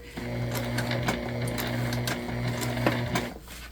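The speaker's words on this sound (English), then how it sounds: "we're getting real close to where we're gonna stop stitching" Close, steady whir of a sewing machine stitching a shoulder bag, with a rhythmic mechanical chatter running evenly for a few seconds.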